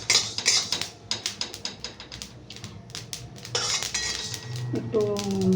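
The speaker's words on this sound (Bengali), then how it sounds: "ধনেটা একটু চড়বড় চড়বড় করছে" Coriander seeds crackle and pop in a hot pan with cumin seeds, a dense run of close clicks and rattles, with a voice talking over the last second.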